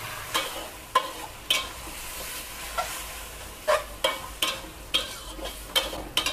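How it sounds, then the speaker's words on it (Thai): Instant noodles with shrimp and sauce stir-fried over high heat in a pan for a Thai holy basil dish, a steady sizzle broken by repeated scraping strokes of a spatula at an uneven rhythm, close and clear with no talking. "ใช้ไฟแรงๆในการผัดเลยจ้าผัดให้ทุกอย่างสุกเลยค่ะ"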